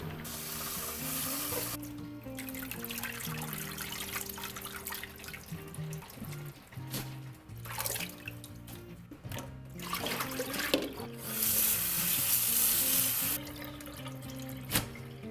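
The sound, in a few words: rinsing salted cabbage in water for vegan kimchi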